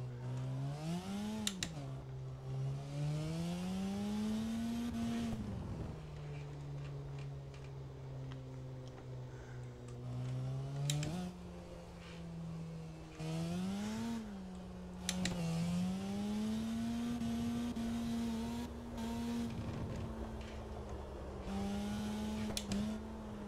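Engine note of a car drifting in the CarX racing game on an evening Ikebukuro street map, a revving tone that rises and falls repeatedly between gear shifts, with tyre slides and occasional sharp clicks.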